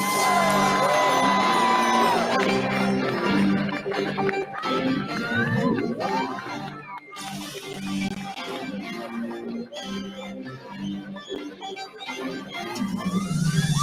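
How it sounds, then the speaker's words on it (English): A large audience at the Miss World 2025 pageant whoops, shouts and cheers loudly and continuously as the 72nd Miss World Humanitarian Award winner is announced, with music and raised voices mixing in the crowd noise. "Give a huge round of applause for the 72nd Miss World Humanitarian Award winner"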